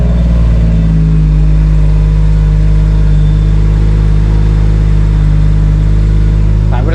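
A BMW M140i F20 facelift's engine runs loud and close, a deep sustained rumble with steady low harmonics, as though held at raised revs, with no talking over it.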